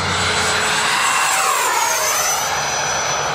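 A modified Blue Angels radio-controlled jet roars past, its turbine whine sweeping in pitch as it passes close by, loud and continuous over a steady rushing exhaust.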